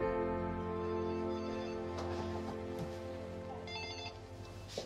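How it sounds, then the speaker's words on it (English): A telephone rings at a restaurant, a steady tonal electronic ring that fills the room and carries on for several seconds, fairly close and clear with no voices over it. "just when the phone gonna ring"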